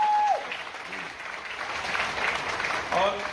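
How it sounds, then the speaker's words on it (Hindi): A crowd at a gathering breaks into enthusiastic applause in someone's honor, broad sustained clapping with a voice briefly audible at the start and end. "एक बार उनके सम्मान में शानदार ताली हो जाए"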